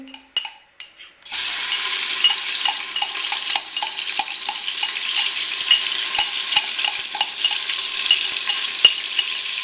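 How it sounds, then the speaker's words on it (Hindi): Garlic and ginger paste sizzles steadily in hot cooking oil in a pan after a few clinks of the pan and spoon, then a continuous frying hiss with occasional stirring scrapes. "अब इसमें हम लहसुन और अदरक का पेस्ट डाल देंगे।"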